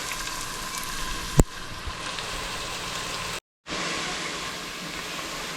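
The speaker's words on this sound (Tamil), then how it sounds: "வெங்காயம் போட்டாச்சு இது கொஞ்சம் வதங்கட்டும்" Onions and ginger sauté in a pan with a steady, soft hiss of frying, one sharp click near the start and a brief cut to silence partway through.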